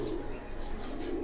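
Pigeons on a rooftop in Jalalpur Bhattian coo softly and steadily, with low, rolling calls repeating at close range in a quiet setting.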